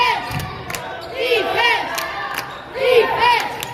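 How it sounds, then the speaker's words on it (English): Younger siblings shout and cheer loudly in bursts in a junior high boys' basketball gym, their high voices rising in rhythmic chants, with no one speaking. "she has got these 12 players who stayed and the younger siblings cheering loudly"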